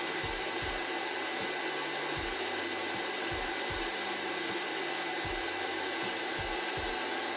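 A handheld induction heater warms a rusted nut, making a constant fan-like hiss and hum, with low thumps repeating at regular intervals underneath.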